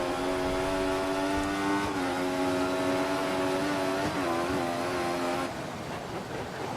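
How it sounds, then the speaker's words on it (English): An F1 car's engine in F1 2014 drones at high, steady revs as its wheels spin on a wet track in Austria, the pitch wavering slightly before the note drops near the end. "We're just spinning our wheels here like crazy."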